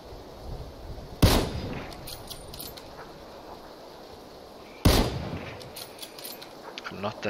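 Two sharp sniper rifle shots ring out in PlayerUnknown's Battlegrounds, several seconds apart, each a loud crack followed by a fading tail over quiet outdoor ambience.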